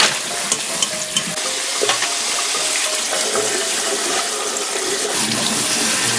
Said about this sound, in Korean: 제가 찬물에 헹굼을 해보겠습니다.